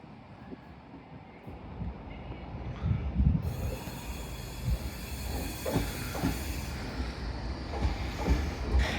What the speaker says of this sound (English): Also departing now is your delayed 1318 LNER Intercity 225 set from Leeds to London King's Cross.